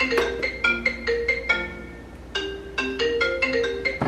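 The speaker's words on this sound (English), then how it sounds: "Why is my phone blowing up right now?" A mobile phone ringing with a melodic ringtone, a rapid series of bright tonal notes repeating in two phrases with a brief pause between, fairly close and clear with no talk.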